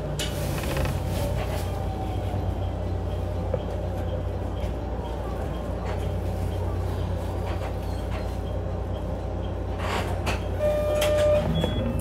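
A steady low rumble and hum inside a JR 7000 series one-man local train on the Yosan Line from Matsuyama, in motion, with faint rattles and occasional clicks, no clear talk.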